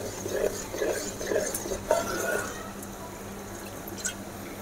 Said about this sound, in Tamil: இப்போ இந்த தயிரை இதில் ஊற்றிக்கலாம்.